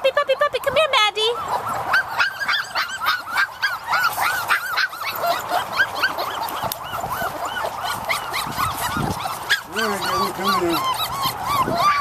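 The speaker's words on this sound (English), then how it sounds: "Puppy, puppy, puppy. Come here, Maddie." A puppy on hot concrete barks, yips and whimpers repeatedly in high, excited bursts throughout, while someone talks to it over the top.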